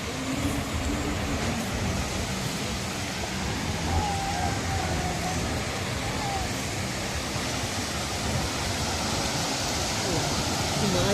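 Sea waves washing in on a beach, a steady, loud broadband surf roar that continues without letup, heard close by with a faint voice briefly in the background.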